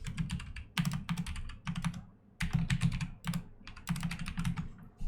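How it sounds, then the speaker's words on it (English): Quick bursts of clicky keystrokes on a computer keyboard, close and fairly quiet, coming in rapid runs separated by brief pauses. "it's always fun typing without looking at the keyboard"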